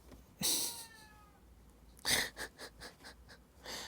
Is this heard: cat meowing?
yes